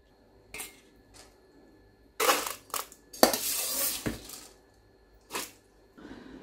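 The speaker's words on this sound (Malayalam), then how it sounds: "കഴുകി വൃത്തിയാക്കിയിട്ടുള്ള അരി ഈ കാസറോളിലേക്ക് ഇട്ട് കൊടുക്കാം" Washed rice poured into a casserole pot in a kitchen, a few bursts of grainy rattling pours and clinks against the container, close and clear with quiet gaps between them.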